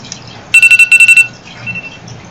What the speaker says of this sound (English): Sorry about the alarm.